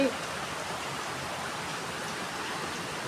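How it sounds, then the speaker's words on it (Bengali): Heavy rain pours down in a steady, dense hiss that holds without a break, with no voices standing out. "উঠেও দেখতেছি সেই লেভেলের বৃষ্টি"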